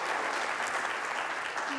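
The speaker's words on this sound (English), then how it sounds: "How about a big round of applause for all of our guests Jim Pratt, Steve Borden, and Melissa Forrest" Studio audience applause at a live morning show, a dense, steady wash of clapping from a crowd that holds evenly throughout with no talk over it.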